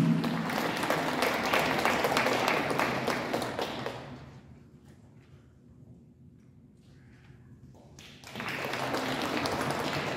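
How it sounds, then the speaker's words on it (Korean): Crowd applause at a Korean community political rally, loud dense clapping that fades out midway into a quiet room, then surges back strongly for the final speaker. "큰 박수로 환영합니다"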